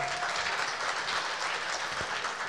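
Audience applause at a carnival awards ceremony, the Plezikanaval Awards, a steady dense wash of clapping heard from a distance and fairly faint, continuous with no voices over it.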